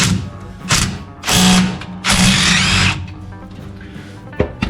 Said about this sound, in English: I'm going to move on to getting all these bolts off